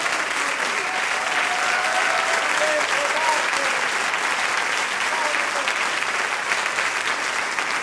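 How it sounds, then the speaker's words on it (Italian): Sustained audience applause for a youth orchestra after a concert, a dense, even roar of many hands clapping throughout, with a few faint voices in the crowd. "Ultimissimo applauso"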